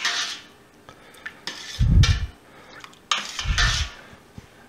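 Cheese curds for homemade pepper jack being stirred in a pot, giving two low swishing sloshes with faint metallic clinks and scrapes of a utensil against the pot between them.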